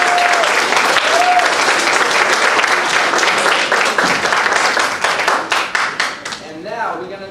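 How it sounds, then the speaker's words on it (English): Loud audience applause at a spring school recital of a children's string program at PS 346, steady dense clapping that thins into scattered claps near the end, with a voice briefly heard over it. "So you can give a clap one more time"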